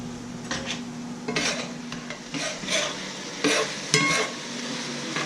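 Shark chili seasoned with chipotle chili powder sizzles in a greasy pan while a utensil stirs and scrapes it in several uneven strokes, close and fairly loud, with no speech.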